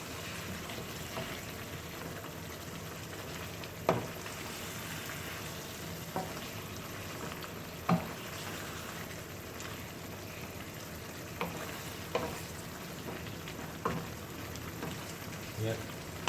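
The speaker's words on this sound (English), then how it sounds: "Just gonna give it a good stir again." A mixed vegetable curry of potatoes, cauliflower, broccoli and carrots bubbles and sizzles steadily in a pot, with occasional soft scraping knocks of a spoon stirring, and a voice talks over it.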